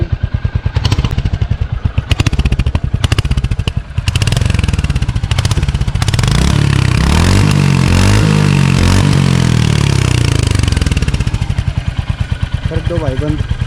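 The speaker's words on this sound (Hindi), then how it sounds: "इसके एग्जॉस्ट साउंड सुनाता हूँ भाई" Royal Enfield Hunter 350 motorcycle exhaust, loud and close, with steady idle thumping that rises in revs around the middle before settling back, a voice speaking briefly near the end.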